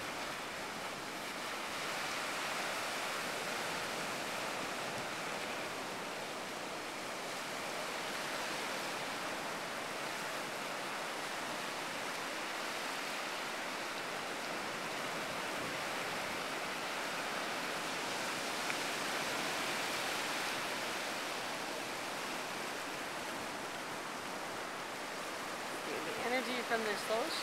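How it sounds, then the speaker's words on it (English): A continuous wash of surf rolls in steadily, a broad hiss of breaking waves with gentle swells in loudness and no clear pauses. "hanging out on the beach, watching the ocean come in"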